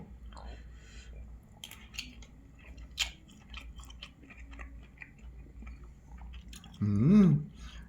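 Quiet chewing while eating rice with stir-fried beef at home, soft wet mouth clicks and bites scattered through the clip, with faint muttering and a brief louder vocal sound near the end.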